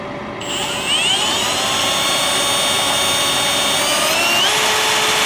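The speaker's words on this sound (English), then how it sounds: "now that we have these holes drilled out for the self-tapping screws" A power drill boring holes for self-tapping screws to fit a Haloview MC7101 camera mount, whining steadily and close for about five seconds with a rising pitch, with no talk.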